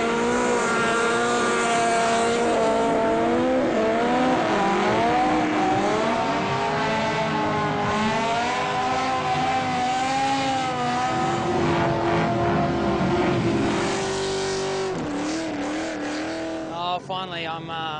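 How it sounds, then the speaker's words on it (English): Race cars doing victory burnouts after a race, engines revving and wailing with rising and falling pitch and tires screeching, while a voice talks over the din. "Trophy celebrations now to make that complete, some victory burnouts."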